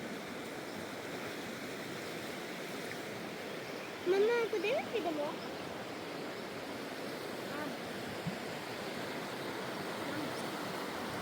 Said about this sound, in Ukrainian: Шумить вода, прямо кайф-кайф.